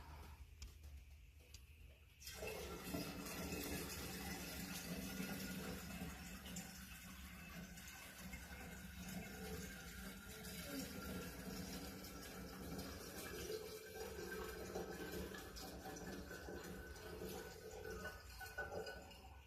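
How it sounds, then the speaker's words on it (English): Water poured steadily into a container while making mead, a continuous rushing fill that starts after a brief quiet moment and runs on at an even level to the end. "So now what we're going to do is we're going to add the rest of the water."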